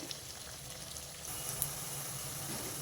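Onions, garlic and curry leaves fry in a pan with a soft, continuous sizzling hiss that grows slightly louder midway, fairly faint and steady throughout.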